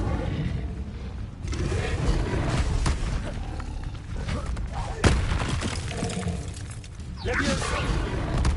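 Incendio fire spell cast in the video game Hogwarts Legacy, a burst of fiery crackle and whoosh among other spell effects, fairly loud and dense, with a voice calling out spells over it.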